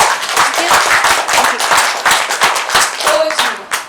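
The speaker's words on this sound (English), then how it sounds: "Let's give them a warm round of applause." Warm round of applause from a conference audience, with distinct individual hand claps forming an uneven, moderately loud patter that continues for several seconds, and a few voices underneath.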